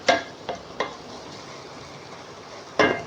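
Dal mash being sautéed in a pot, with a low steady sizzle broken by four sharp scraping strokes of a spoon against the pot, close and with no voices.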